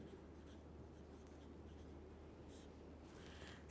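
Marker or chalk writing on a board during a physics lecture, a faint continuous scratching and rubbing over steady room hiss, with no speech and a brief louder knock at the very end.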